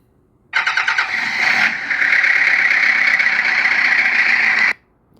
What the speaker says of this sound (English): the vehicle did really start up